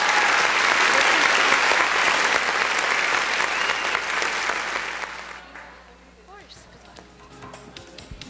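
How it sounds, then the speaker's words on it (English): Loud applause from a pageant audience for the contestants of a Mrs and Miss competition, dense and steady for about five seconds before fading into quieter room sound with scattered claps. "Let's give the contestants a big round of applause"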